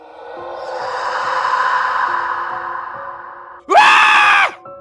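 Two people scream in fright inside a house, a loud, shrill burst rising abruptly after a long, wavering drawn-out tone, then cutting off sharply.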